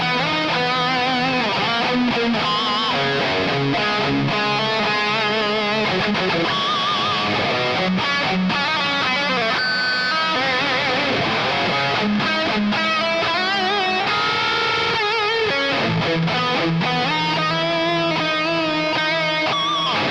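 A Legator N6X electric guitar plays a continuous distorted passage on its second voice, drenched in heavy reverb, with dense ringing notes and a loud, sustained wash throughout.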